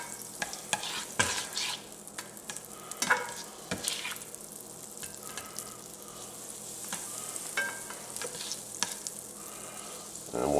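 A tablespoon of butter melts in olive oil in a pan, giving a soft continuous sizzle with frequent scraping and stirring clicks from a utensil, close and fairly quiet, with no talk.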